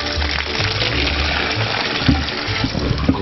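Grape juice and must gush steadily out of a wine press into a colander and funnel while 400 kg of grapes are pressed, a continuous splashing pour with a few louder sloshes near the end.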